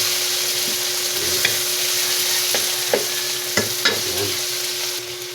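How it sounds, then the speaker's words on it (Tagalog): Sautéed onion and tomato sizzle steadily in a pan while a spoon stirs them, scraping and clinking against the pan now and then under the constant frying hiss, close by and without talk. "sabay na natin itong ating sibuyas at kamatis. Ayan. Haluin mo natin na medyo madurog na natin kamatis."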